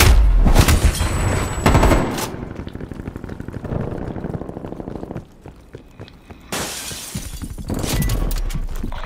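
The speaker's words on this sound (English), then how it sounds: "Incoming stun grenade." A stun grenade goes off in Call of Duty: Black Ops Cold War, a loud shattering blast followed by a rapid crackling burst, then a lingering ringing haze and another loud surge of gunfire-like noise near the end.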